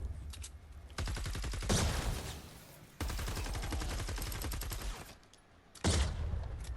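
The Nocturno gun firing in Fortnite Save the World, long unbroken bursts of rapid automatic shots, loud and close, separated by short gaps and a brief quieter pause before another burst.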